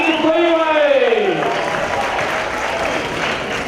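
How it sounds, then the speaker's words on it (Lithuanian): An audience at a conference in Kaunas applauds its chosen commission with sustained, dense clapping. A voice speaks over the start of the applause, which carries on steadily to the end. "Galite pasveikinti plojimai savo išsirinktą komisiją."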